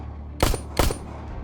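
Two sharp gunshots ring out about 0.4 seconds apart, each a loud crack with a brief decaying tail, heard alone without voices.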